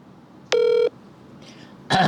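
A phone redials a call with two short electronic tones, spaced about a second apart, heard close against a quiet background.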